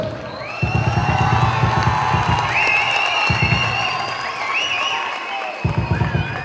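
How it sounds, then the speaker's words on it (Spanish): A crowd at the El Sur Vive Fest 2017 freestyle rap battle claps and cheers with high shouts and whoops over the noise, while a low rhythmic thumping beat pulses underneath. "Un fuerte aplauso para Basser."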